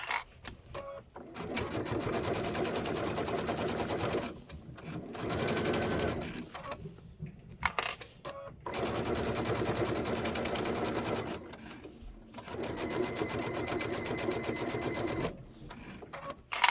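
A sewing machine stitches quilt pieces together in steady, fast runs of several seconds each, broken by short pauses, close and loud with faint talk in places.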